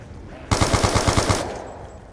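A rapid burst of automatic gunfire from the video game Call of Duty Black Ops 3, about ten sharp, evenly spaced shots lasting roughly a second, loud and close, with no talking.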